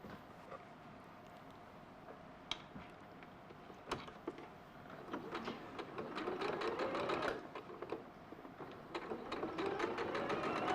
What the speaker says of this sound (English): We'll sew the longer strip on this one